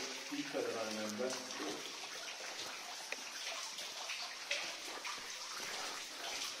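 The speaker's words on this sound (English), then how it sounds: "it's been designed in a way so water always flows in it" Water flows steadily through a flooded slate quarry, a constant close wash and trickle with faint splashes, heard throughout with no clear talk over it.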